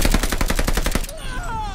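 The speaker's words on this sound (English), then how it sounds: "Novak, shoot the driver!" Loud, rapid machine gun fire in the Call of Duty Vanguard video game, a tight burst of about ten evenly spaced shots that cuts off abruptly and leaves a short ringing tail.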